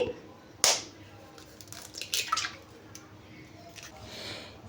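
Eggs cracked one at a time into a bowl while making street-style egg noodles: a quiet, sharp crack followed by soft squishy drips and wet splats, faint and close, with sparse small sounds between.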